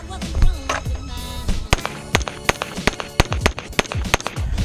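Rapid string of loud, sharp gunshots from a 1911 Tac Ultra FS pistol at an outdoor range, about a dozen cracks in quick succession with echoing decay between them.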